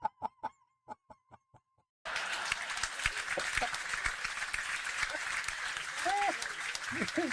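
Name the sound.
audience applause in played comedy show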